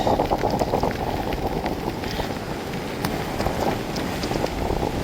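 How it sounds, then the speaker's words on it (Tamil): Strong wind blows over the sea in a harsh, constant roar, loud and buffeting against the microphone, with no voices. "காற்று அதிகமாக இருக்குது."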